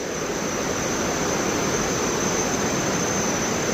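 Thomson's Falls in Nyahururu, Kenya, a 74-metre waterfall, and the river below it give a loud, unbroken rushing roar of water, steady and broadband, with no voices.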